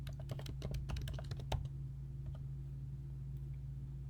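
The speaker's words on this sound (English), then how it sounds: "So I'm going to add a new line and type in return" Quick keyboard typing on a computer keyboard while coding in Google Apps Script, a burst of close, crisp key clicks over the first second and a half that thins into a few scattered taps over a steady low hum.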